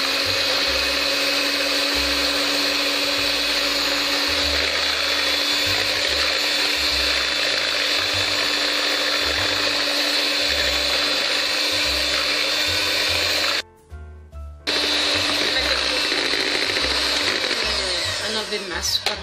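Electric hand mixer whipping six eggs with sugar for a génoise sponge, a steady loud whirring drone that runs nearly continuously, briefly cut off once before starting again.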